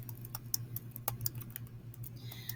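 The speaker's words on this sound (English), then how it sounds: "The first thing that I'm going to do is type the date." Light, irregular keystrokes on a computer keyboard as a date is typed, sharp clicks scattered over about two and a half seconds above a steady low hum, with no voices.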